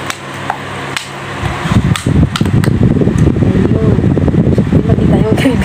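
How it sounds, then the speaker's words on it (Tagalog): An electric fan runs close by as a steady whirring hum under a Jollibee mukbang meal, with clattering and tapping of food containers and someone talking over it. "hindi na ako maingay kasi katabi ko yung electric fan"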